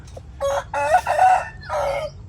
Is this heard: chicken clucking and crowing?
yes